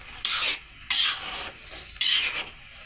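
Peanuts being stirred in a pan while they roast for salted shelled peanuts, giving three dry, rasping scrapes at an even pace, close and moderately loud, with no one talking.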